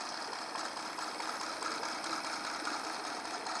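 A 1999 Honda 8 hp four-stroke outboard engine idles steadily, a continuous even mechanical hum with a faint ticking texture that stays at one level throughout, with no talking.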